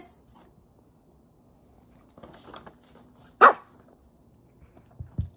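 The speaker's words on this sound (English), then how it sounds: "Oh, well, you barked." A single sharp dog bark, close and fairly loud, standing out against a quiet indoor room with a few faint rustles and small sounds around it.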